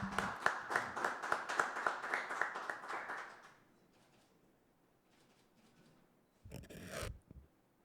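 A small group claps in a quick, even rhythm for a few seconds at a motion-of-applause presentation, then falls quiet before a short rustling burst near the end.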